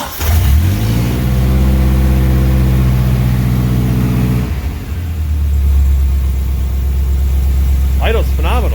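Carbureted engine of a 1989 Dodge Raider with a Weber carburetor and corkscrew resonator, rumbling at a steady, loud idle close by after a brief rise in revs, with someone talking near the end.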